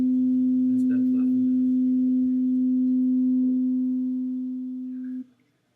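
Two steady pure tones sound together, producing a slow wavering beat at a few pulses per second, held loudly and alone for about five seconds before cutting off abruptly.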